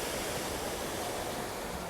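Sea waves at a beach produce a steady, even wash of surf noise, fairly faint and continuous with no voices.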